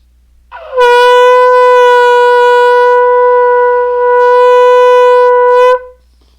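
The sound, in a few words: shofar blast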